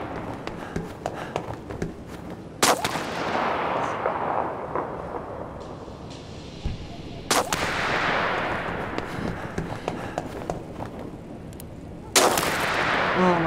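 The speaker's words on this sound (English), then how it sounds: "A sniper shot me, what?" Sniper rifle shots from the video game This War of Mine crack out sharply three times at intervals of several seconds. Each shot is followed by a long, rolling echo that decays slowly, with softer rustling noise between the shots.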